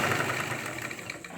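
Sewing machine stitching the side zip of a ladies' pant, a steady close mechanical whir that runs continuously without a break.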